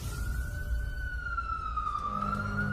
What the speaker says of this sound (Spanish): Tuvimos que pedir una ambulancia.